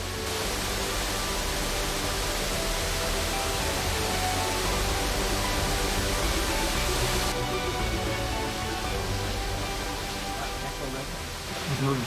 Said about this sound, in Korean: 귓가를 때리는 시원한 폭포 소리를 들으며 자연과 어우러질 수 있는 기회다.